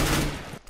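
Gunfire from the video game Counter-Strike: Global Offensive, a loud dense burst of shots filling the first half, then tailing off into quieter scattered game sounds.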